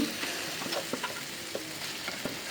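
Chopped onion and cooked taro leaves fry in a pan, hissing and sizzling steadily up close, with repeated scraping and stirring clicks throughout and no voices.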